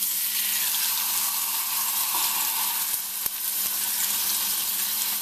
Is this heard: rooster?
no